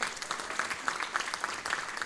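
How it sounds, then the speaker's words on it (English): Continuous applause from a crowd, dense clapping with a faint rhythmic pulse running through it, sustained for the whole moment. "Give her a big round of applause."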